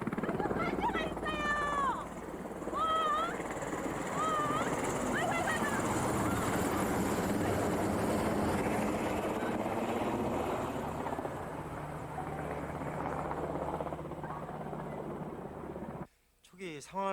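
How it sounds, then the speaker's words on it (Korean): An air force rescue helicopter approaching along a mountain ridge toward a village, a steady rotor drone under a continuous narrating voice, with a few chirping birdlike sounds early on. "공군 헬기는 산 능선을 따라 마을 어귀로 접근하고 있었습니다."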